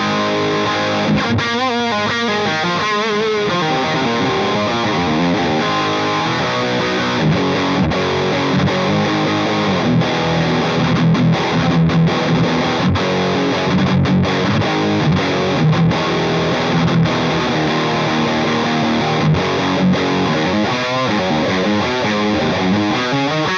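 Heavily distorted electric guitar riffing through a Seymour Duncan Powerstage 170 with a pitch-shifting harmonist effect stacking extra voices above the notes, loud and continuous with no talking.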